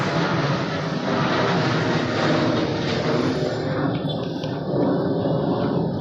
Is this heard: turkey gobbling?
no